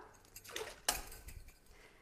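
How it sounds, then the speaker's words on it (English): Faint clinks and clatters of metal utensils knocking together while being washed in a sink, a few brief contacts with one sharper clink near the middle. "I'm just going to wash them quickly in the sink"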